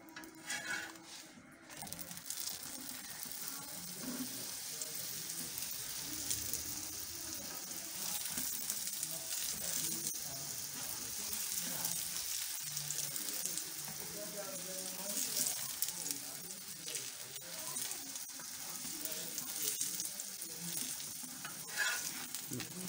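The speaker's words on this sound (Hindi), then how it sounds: "अब मैं ऑयल डालूँगी, इसमें काफ़ी सारा ऑयल डलता है ताकि अच्छी क्रिस्पी हमारे पराठे तैयार हो।" Aloo paratha frying in plenty of oil in a pan, a continuous hiss and sizzle with occasional stirring and scraping of cookware, fairly quiet and close, with no talking.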